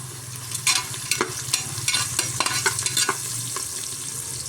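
Onions with turmeric are stirred in a frying pan for vangi bath, a soft sizzle running under repeated close spoon scrapes and clinks against the pan.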